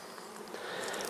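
Honeybees at a busy, docile hive buzz as a dense, steady hum, close and continuous, with no voices over it.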